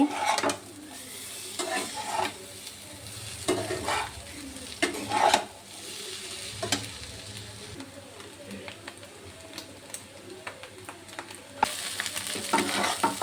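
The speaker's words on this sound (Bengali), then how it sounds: "আবার ভালো করে ভেজে নেব।" Chow mein with sauce sizzles and crackles in a hot pan, with repeated scraping and stirring strokes throughout, close and fairly loud.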